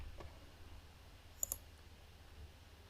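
A single mouse click on a Connect button in SQL Server login software, a faint, crisp pair of quick clicks against a quiet background hum.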